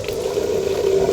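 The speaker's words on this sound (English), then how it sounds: "So now that's connected and that pump should run." The water pump of a 1997 American Dream RV runs with a steady, close, continuous hum that holds one pitch throughout, with nothing else heard over it.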